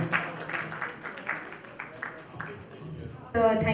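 Applause from the audience at a live music stars show, welcoming a singer, a continuous patter of clapping at moderate volume, with a clearer tone, probably music, cutting in near the end.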